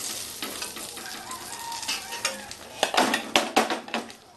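Potatoes dropped into hot oil left from frying brinjals and fish, sizzling steadily while a spatula stirs and scrapes the pan, with sharper clattering strokes building toward the end, close and clear with no talking.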